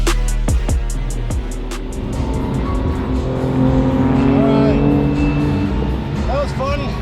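A race car driven hard on a track, its engine droning loudly and steadily close by with shifting pitch as it accelerates and corners, a few sharp clunks at the start, with talking over it.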